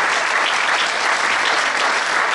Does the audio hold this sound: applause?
yes